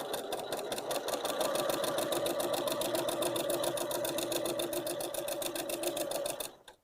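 A Janome sewing machine stitching with a quilting foot and guide bar at a fast, steady mechanical rhythm, loud and close, with a clunky rattling quality, stopping at the end.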